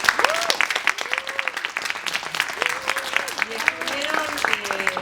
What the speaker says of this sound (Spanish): quería que le demos un inmenso aplauso a Salomé y a Juan Ignacio